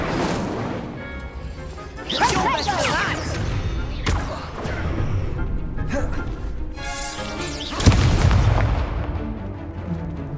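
Spell combat in the Hogwarts Legacy video game, with Confringo, Incendio and Protego cast in quick succession: repeated loud crashing blasts and whooshing magical effects. A big impact lands near the end, and some faint game voices sit underneath.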